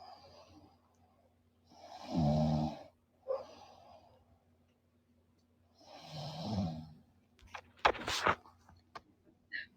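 A sleeping person snores close by, two drawn-out rasping snores a few seconds apart with quieter breaths between, then a few sharp clicks and rustles.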